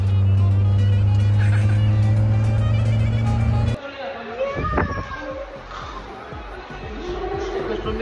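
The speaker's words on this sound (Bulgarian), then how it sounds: "има кола зад нас" A car engine drones steadily in the background on a seaside trip, then drops lower and rumbles as the vehicle moves, with people talking over it.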